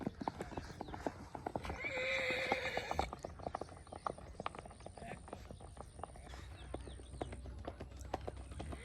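A mare's hooves clip-clop in a steady rhythm on hard ground while she gives a clear whinny early on, close and moderately loud, with faint background noise.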